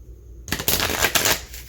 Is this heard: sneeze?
no